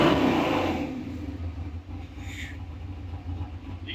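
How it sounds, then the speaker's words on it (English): A Ford Racing 427 cubic inch engine in a 1935 Factory Five hot rod idles steadily with a low, throbbing rumble, loud and close, holding a continuous tone throughout. "Listen to that idle."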